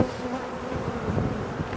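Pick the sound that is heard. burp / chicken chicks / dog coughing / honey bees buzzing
honey bees buzzing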